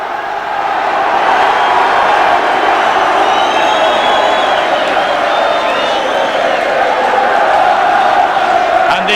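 Large stadium crowd at Old Trafford roaring and cheering steadily before a 1993 rugby league divisional final between Featherstone and Workington Town, a dense, continuous wash of voices and whoops filling the whole stretch.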